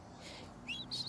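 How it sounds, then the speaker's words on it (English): Small birds chirp faintly outdoors, with a few short, high tweets near the end over a quiet indoor background. "You hear all the birdies outside?"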